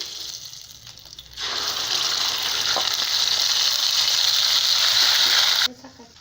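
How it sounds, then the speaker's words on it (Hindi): Onion and tomato paste sizzles loudly in a hot pan for a Palak Paneer gravy, a steady frying hiss that swells after a quiet start and runs unbroken, then cuts off near the end. "ये अच्छी तरह फ्राई हो जाए तब हम इसमें प्याज और टमाटर का पेस्ट ऐड कर देंगे।"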